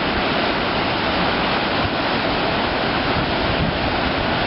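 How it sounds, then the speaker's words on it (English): Surf washing onto the shore at Twillingate, Newfoundland, near a foundering iceberg, a loud steady roar of breaking water with heavy wind rumble throughout, no voices. "Listen to the surf."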